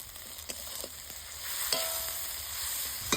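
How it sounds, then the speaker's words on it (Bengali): Chopped tomato with salt, turmeric and Kashmiri chilli powder frying in a pan for egg curry, a steady soft sizzle with occasional scrapes and clicks of stirring, close and alone. "এবার হালকা নাড়ি চাড়ি নিব।"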